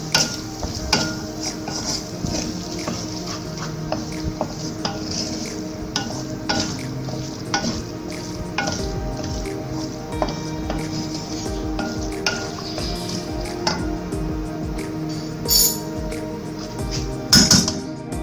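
A spoon stirs a red chili mix in a pan with a low sizzle, scraping repeatedly and clinking now and then against the metal, a little louder toward the end.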